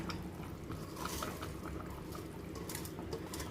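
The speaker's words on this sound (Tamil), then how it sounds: "இப்போ நல்லா தண்ணி தலை தலைன்னு கொதிக்குதுங்களா" Water comes to a rolling boil in a pot for mutton biryani, a faint, continuous bubbling and churning with no talk over it.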